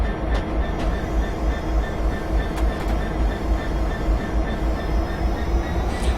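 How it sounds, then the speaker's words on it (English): Freightliner Class 66 diesel locomotive running in Train Simulator 2015 on the Great Eastern Mainline, a loud, steady engine drone with continuous rail rumble and faint rhythmic wheel clatter throughout. "We're driving a Freightliner Class 66."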